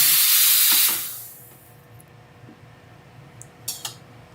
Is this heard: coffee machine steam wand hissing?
yes